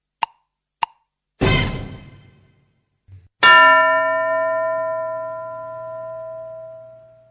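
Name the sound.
school bell ringing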